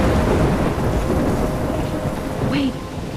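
Thunderstorm with steady heavy rain and rumbling thunder filling the scene, loud and continuous, with a brief higher swoosh near the end.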